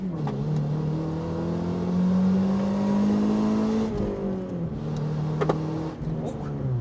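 A Honda Civic EP3 engine with a small exhaust leak revs and holds a steady droning rise, with a slight raspy exhaust tone, then drops and revs again.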